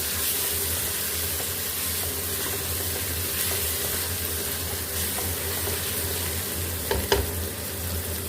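Chopped tomatoes frying and being stirred with masala in a pan, a steady close sizzle with occasional scraping knocks of the spoon, one louder clatter near the end.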